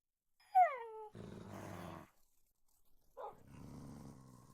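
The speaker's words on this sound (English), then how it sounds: "What are you growling at?" A pet animal in a modded survival video game gives a short high yowl, then a low rumbling growl, and after a pause a brief cry and another longer growl, fairly faint and close.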